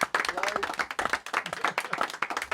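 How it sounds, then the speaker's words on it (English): Brief round of clapping from a small audience on a TV show, applauding a guest called Man v Fat Mark; scattered, fairly close claps with voices talking over them. "Give him a big round of applause"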